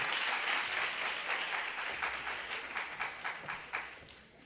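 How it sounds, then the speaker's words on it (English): Audience applause after a talk at a business presentation, a steady round of clapping from a crowd heard at moderate distance, lasting several seconds and tapering slightly toward the end. "please give a big round of applause once again for that fantastic session"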